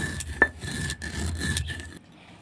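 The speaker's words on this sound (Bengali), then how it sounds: "আমি ঠিক একইভাবে এই সরিষাগুলো বেটে তুলে নেব" Washed, sun-dried mustard seeds are ground on a grinding stone, giving close, rhythmic rasping strokes of stone rubbing on stone, with one sharper scrape early on.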